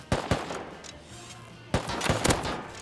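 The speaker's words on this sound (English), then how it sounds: "I shot him." Gunfire in the survival video game Rust, two sharp bursts of rapid shots about a second and a half apart, close and loud with nothing between them.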